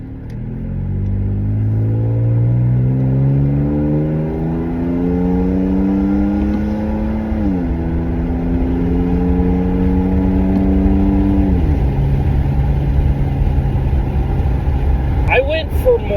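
A truck fitted with a new, quieter aftermarket exhaust accelerating through the gears, a loud close engine note climbing steadily with two gear changes before settling into a steady cruise.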